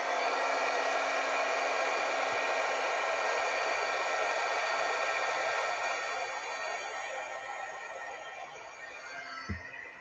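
A heat tool blows hot air over a card-making project in a steady, hair-dryer-like whoosh that holds strong at first, then eases off in the second half and ends with a small knock.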